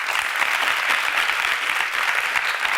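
Dense, even applause fills the room after a youth leadership debate, a continuous wash of many hands clapping with no pause.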